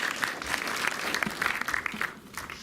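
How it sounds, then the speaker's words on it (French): Audience applause at a French-language talk event, a steady broadband patter of many hands at moderate level, fairly close, running the whole stretch with slight swells and no voices. "vous pouvez applaudir Diafana aussi"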